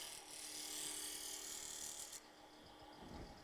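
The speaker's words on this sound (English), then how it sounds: "We're taking from square to round, with a roughing gouge." A roughing gouge cuts square wood stock round on a spinning lathe, giving a steady loud rasping scrape that holds for a couple of seconds, then eases and picks up again with no talk.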